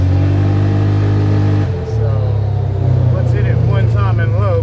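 A rebuilt 2015 Polaris Ranger 570 engine with Rev 6 engine parts and a mother clutcher primary runs at a steady, loud idle-like drone that shifts pitch midway, with a person talking over it.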